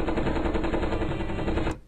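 Rapid machine-gun fire in an Eddsworld cartoon: one loud, unbroken burst of fast, evenly spaced shots that cuts off abruptly after almost two seconds.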